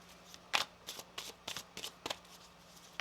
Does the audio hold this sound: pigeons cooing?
no